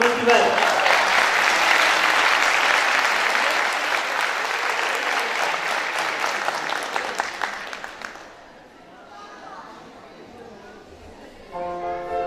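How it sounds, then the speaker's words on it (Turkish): A school auditorium audience applauds after a second-grade children's choir performance at a Turkish choir festival, with steady dense clapping for about eight seconds that then fades, followed by a voice speaking. "Alkışlarınızla Eda Turgut Güven."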